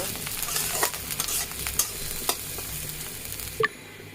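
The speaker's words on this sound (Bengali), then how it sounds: "এখন আমি একটু এটা লাল করে ভেজে নেব।" Chopped onions frying in a pan for taki fish bhorta, a steady close sizzle with occasional sharp scrapes and clinks of stirring, no talking.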